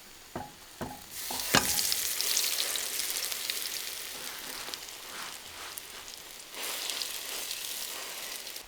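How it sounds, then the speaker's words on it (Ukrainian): Steady sizzling of a potato and grain flatbread frying in a little oil in a hot pan, with a few sharp clatters at the start and the hiss swelling and easing throughout. "Другий буреник відправляється теж на пательню."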